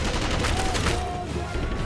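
Gunfire cracks out in the World War II sniper game Sniper Elite V2, a brief, dense cluster of shots with some faint background sound.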